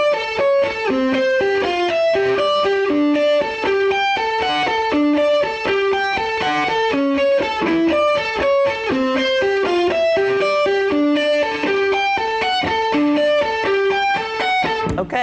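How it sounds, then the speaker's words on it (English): Electric guitar lead line from a song, played over the chorus as a fast, continuous run of picked single notes in a repeating arpeggio pattern, bright and lightly distorted, steady throughout with no talking. "the next thing I want to show you is the lead part that goes over the chorus"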